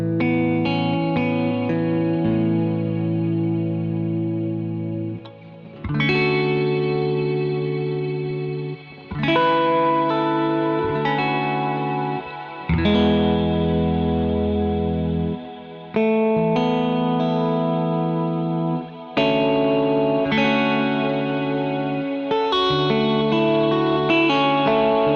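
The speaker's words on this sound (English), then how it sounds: "it's the E-dome reverb, which you can think of as like a big cloud reverb" Sustained guitar chords washed in a huge, lush reverb from an E-dome reverb pedal that swells and blooms, each strum melting into a long shimmering tail, loud and continuous.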